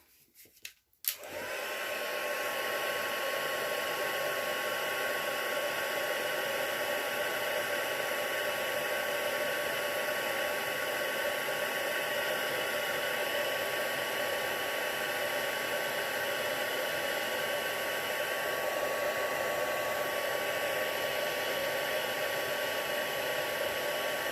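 A heat tool runs steadily, heat-setting paint on a handmade stamped card: a loud, continuous blowing whoosh switches on after a second and holds unbroken for the rest of the clip, with no talking.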